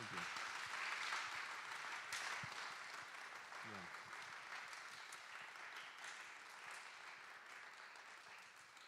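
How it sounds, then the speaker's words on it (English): Lecture audience applauding the guest speaker, Dr. John Garland, with steady, dense clapping that stays fairly even throughout and fades slightly near the end, with faint voices mixed in. "let's give John a round of applause"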